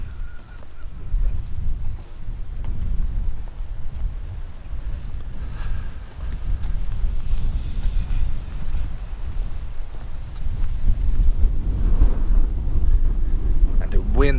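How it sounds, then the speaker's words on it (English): Wind blows outdoors across open swampland on an afternoon, a steady low rumble and buffeting roar that continues throughout and swells louder near the end. "Wind is picking up in the afternoon."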